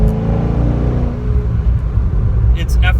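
A car fitted with AHP LS7 heads and a 116 cam accelerating, a deep, loud engine rumble pulling steadily from inside the cabin, with a voice briefly talking near the end.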